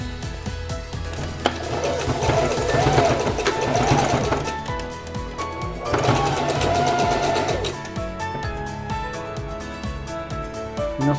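A sewing machine stitches a blouse seam diagonally in two loud bursts of rapid whirring, each a few seconds long, separated by quieter handling noise.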